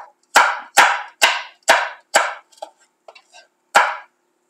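A knife chops peppers into thin julienne strips on a board: about six sharp, close knocks at a steady pace, then a pause of faint clicks and one last chop.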